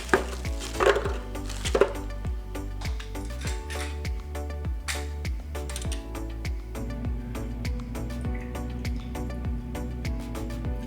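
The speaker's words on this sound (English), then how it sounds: "So in a blender, we're gonna start by adding the frozen watermelon chunks." Frozen watermelon chunks dropped into a blender, giving a series of hard, knocking clunks and rattles against the jar, close and irregular, over faint background music.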